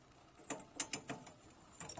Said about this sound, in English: you can see I have a socket with an extension on it